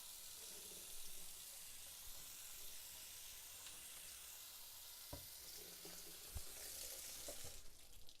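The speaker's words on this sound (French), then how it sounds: "On rince la planche." Tap water runs steadily over a cutting board being rinsed in a kitchen sink, a continuous hiss-like wash with a few brief clatters near the end, no talking.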